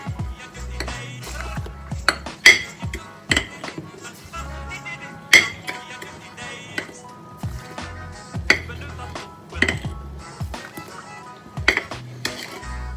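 Sugar being stirred in a pot for a syrup makes repeated clinking and scraping of a spoon against metal, with sharp irregular taps and rattles up close, plus a few soft handling sounds.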